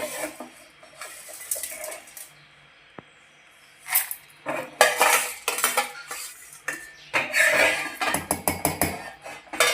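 A spoon scrapes and clatters tempering into a metal mixer jar in quick bursts after a quiet start, with one sharp clink early on.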